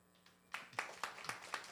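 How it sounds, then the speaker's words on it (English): Audience clapping for hackathon winners at a Korean Ethereum developer event, a short burst of sharp, evenly spaced handclaps from a small crowd, fairly faint and distant, with no talking. "Applause for them"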